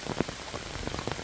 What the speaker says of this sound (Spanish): Aquí está lloviendo recio.